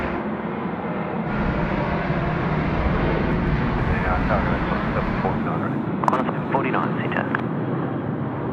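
A Qantas airliner rumbles in the background at Sydney Airport at night, a steady broad engine roar that holds throughout with a few brief sharper sounds near the end.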